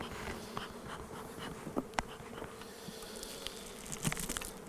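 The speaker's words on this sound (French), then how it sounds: "Le frelon d'Asie qui est à côté de moi, c'est très désagréable." An Asian hornet buzzes near a beehive among bees, a faint continuous insect drone with a few sharper passes and light taps; no one speaks.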